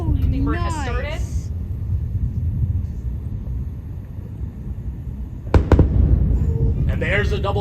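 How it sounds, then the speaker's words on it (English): Twin sonic booms from the two returning Falcon Heavy side boosters landing after a launch, two sharp close-spaced cracks that stand out over a loud rumbling crowd with people talking and cheering. "there's a double sonic boom from each of the two boosters"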